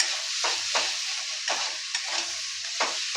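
Ginger and garlic paste frying in a pan for a Bengali chicken curry: a steady, close sizzling hiss broken every half second or so by the scrape of a stirring spoon, with no voices.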